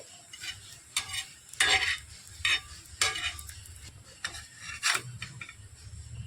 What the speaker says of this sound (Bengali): ভাজতে ভাজতেই একটু টাইম নিয়ে কিন্তু পরোটাগুলোকে ভেজে নিতে হবে